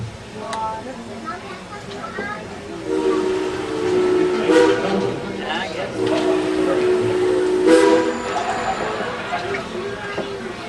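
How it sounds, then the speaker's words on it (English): The Dollywood Express steam whistle blows in two long tonal blasts over the rumble of the train, signalling departure, with people talking throughout. "Now that whistle signals we're fixing to move forward."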